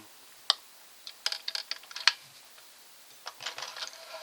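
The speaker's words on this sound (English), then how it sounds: "you can forward and reverse on the fly. You don't have to stop sewing." A Singer 403A sewing machine runs close in quick bursts of clattering, rapid stitching that shift between forward and reverse, with short pauses between runs and no speech.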